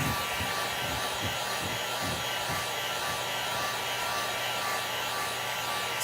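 A hair dryer blows steadily and close, drying chalk paste on a carved tree craft, with a few soft low thumps near the start and no talk.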